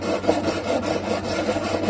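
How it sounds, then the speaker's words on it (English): An aluminum carburetor part from a Clinton model 410 engine is rubbed back and forth on 80 grit sandpaper, giving a steady, close, gritty rasping scrape with rhythmic strokes and no talking. "I can already see the aluminum coming off on the 80 grit sandpaper"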